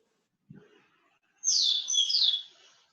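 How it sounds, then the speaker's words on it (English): A noisy pet bird gives a bright, sustained chirping trill lasting about a second, fairly clear and close, after a faint low thump; no talk. "someone's got a noisy bird"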